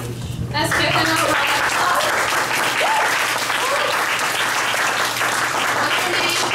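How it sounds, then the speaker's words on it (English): An audience at a table topics speaking session breaks into sustained, dense applause that holds steady throughout, with a voice briefly heard at the start. "Let's give them a round of"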